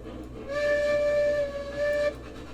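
A steam locomotive whistle from the train game Railroads Online sounds one steady, bright tone of about one and a half seconds over a low rumble, dipping slightly near the end.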